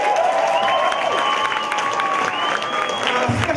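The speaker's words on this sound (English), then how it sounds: "Have a round of applause," A crowd of listeners at a school battle of the bands event applauds and cheers for a band. The clapping is dense and loud, with a tonal hum carrying on through it.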